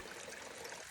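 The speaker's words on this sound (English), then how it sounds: "The waterfall's behind there." A Lake District waterfall hidden from view gives a steady, faint rushing hiss of falling water, continuous and even, with no voices.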